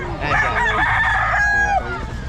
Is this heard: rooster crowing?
yes